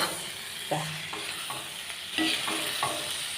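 A Kerala-style clam roast is stirred in a sizzling pan, with several scraping strokes over a constant close hiss of frying.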